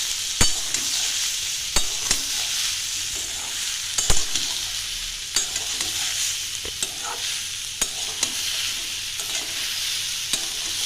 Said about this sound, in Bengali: এবার সব একসাথে নাড়িয়ে দেব।